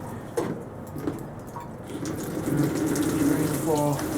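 Water poured from above like rainfall onto sprouting pea seeds, a steady splashing trickle that builds and grows louder toward the end, with a brief voice near the start.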